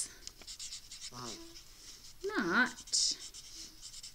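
A pen writes on a paper craft up close, making light, scratchy strokes in short bursts, while someone speaks over part of it.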